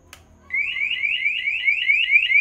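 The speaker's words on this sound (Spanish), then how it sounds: "Activo la alarma. Y vean, la alarma se encuentra activada." Ultra XT21C alarm on a Chinese Bera motorcycle, triggered by tampering with the ignition switch, blares a loud rapid siren of repeated rising chirps that starts abruptly and continues steadily without talk.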